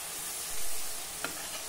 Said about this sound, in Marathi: सर्व मसाले छान परतून झाले आणि याला किती मस्त तेल सुटलं